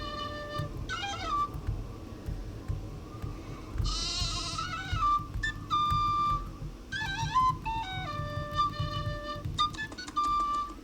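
Sheep in the Nancy Drew game The Haunting at Castle Malloy bleat repeatedly in short wavering calls over a low steady ambient hum, with a higher-pitched bleat standing out midway.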